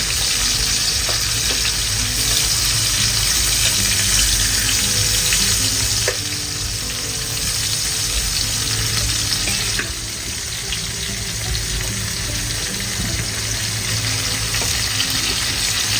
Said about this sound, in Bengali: সবশেষে এই তেলে মাছটা ভেজে নেব।